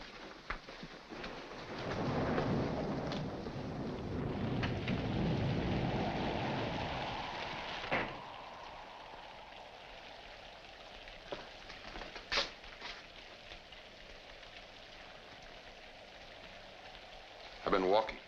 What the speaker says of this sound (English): In this rain? Yes, in this rain.